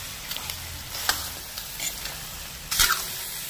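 Pork leg and mung beans with onion and ginger get stirred in a pot: a soft sizzle runs underneath, with scraping strokes and one louder clatter near the end.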